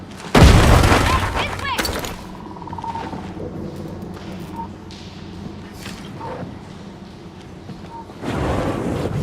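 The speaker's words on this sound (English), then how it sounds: "Time for a grenade!" A grenade blast in the grim sci-fi shooter Warhammer 40K Darktide, a loud sudden boom near the start that rolls off into rumbling battle ambience, with another swell of noise toward the end.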